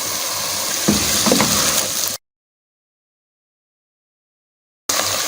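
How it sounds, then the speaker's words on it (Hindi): Finely chopped potatoes fry in a hot pan with a dense, steady sizzle and a few stirring scrapes, loud and close, broken off by a gap of silence before the sizzle returns. "अब हम इसमें आलू शामिल करेंगे जो हमने बारीक काटे हुए थे।"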